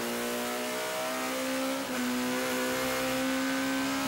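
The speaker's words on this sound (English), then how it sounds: "Listening to Plato at work, now building up through the gears" Touring race car in the British Touring Car Championship accelerating hard through the gears, a loud steady engine drone climbing in pitch with one brief dip at a gear change, recorded on board.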